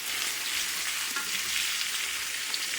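Steaks searing in a pan, a dense, even sizzle with faint crackles throughout, close and uninterrupted.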